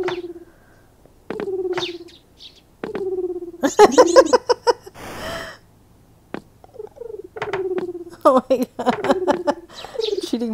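Pigeons cooing in the mobile game Tic-Tac-Crow, a series of soft, clear repeated coos with short pauses, interrupted by a brief burst of noise midway.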